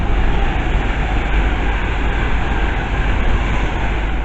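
An Avanti West Coast Class 390 Pendolino electric train passes through Cheddington station, its loud, continuous rumble and rushing roar holding steady up close with no break or voices.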